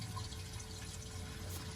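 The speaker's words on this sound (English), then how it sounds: "Our hot water tank is filling up" Water steadily fills an RV hot water tank during de-winterizing, a low, continuous rushing and gurgling flow, faint and unbroken throughout.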